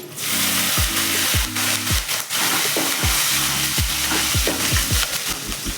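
Green chillies frying in a pan with golden-brown fried garlic, a steady loud sizzle with repeated scraping stirs from a spatula, and no talking.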